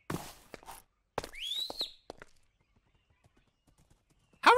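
Horse hooves clip-clop in the RLCraft video game, with a brief whinny and scattered footfalls, loud and close at first and then fading to faint steps before a sharp burst at the end.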